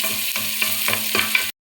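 Onions frying in a pan until golden, a loud continuous sizzle broken by about five rhythmic scraping stirs before it cuts off abruptly.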